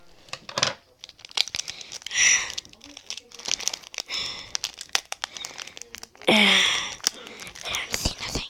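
A Pokemon card pack wrapper is torn and crinkled open with scissors, bursts of crisp plastic rustling and tearing close up, loudest near the end, with soft talking in between.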